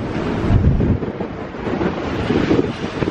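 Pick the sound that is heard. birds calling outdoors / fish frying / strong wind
strong wind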